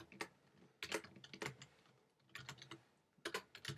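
JavaScript code is typed on a computer keyboard in quick clustered bursts of sharp, close key clicks with short pauses between them, quiet overall.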